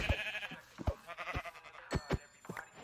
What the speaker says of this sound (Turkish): Aha koyun buldum.